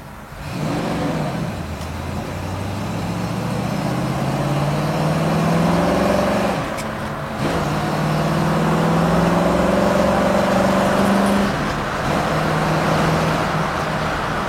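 Loud 1966 resto-mod car engine pulling in second gear after a downshift on the road, rising revs and a rumbling tone that dips briefly mid-clip then climbs again close to the mic, with no voices.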